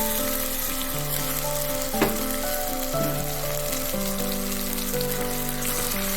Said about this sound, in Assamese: এতিয়া আমি ইয়াতে 3টা বিলাহী গ্ৰাইণ্ড কৰি লৈছোঁ, এইখিনি ঢালি দিছোঁ।